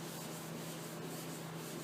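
Steady rasping strokes of a sanding board worked by hand across a truck body coated with guide coat, a continuous close scrubbing sound without speech.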